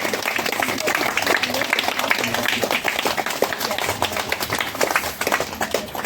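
Steady applause from a congregation welcoming the start of a prayer meeting, many hands clapping continuously at a lively pace for several seconds, with voices in the background.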